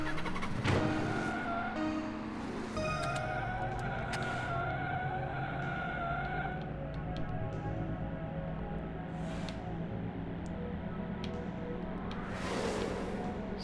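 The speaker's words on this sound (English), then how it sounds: "This car has no acceleration at all." A car engine in the Slipstream racing video game revs and accelerates steadily, a continuous droning motor with rising tones and shifting pitch, loud and alone with no talk.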